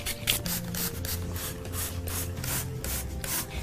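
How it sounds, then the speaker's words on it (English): Rubbing alcohol sprayed from a spray bottle onto white shoes coloured with Sharpie, giving steady close rhythmic spritzing and hissing bursts over a continuous low background hum, with no talking. "We're just going to spray, spray, spray."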